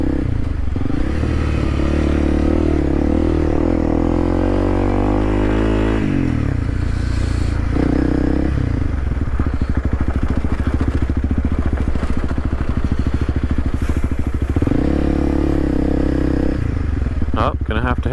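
A dual sport motorcycle riding a dirt road near Florence, Arizona, its engine droning loudly and continuously, with rising and falling revs and gear changes plus rattling and scraping from the rough surface.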